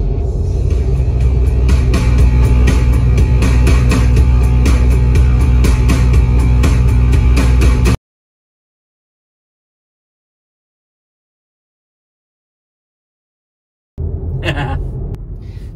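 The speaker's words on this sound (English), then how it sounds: "my personal preference when driving along in my Tesla is to have a fair lot of cabin noise anyway, more like this" Continuous cabin road rumble inside a moving Tesla Model 3, a broad steady drone that stops abruptly into silence before a brief burst of noise resumes at the end.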